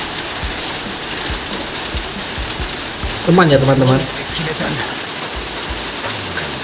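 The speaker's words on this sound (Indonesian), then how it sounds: "ini di sini lagi hujan deras, jadi suaranya agak berisik masuk dalam record" Heavy rain falls outside in a constant loud hiss that fills the whole recording. Someone speaks briefly over it.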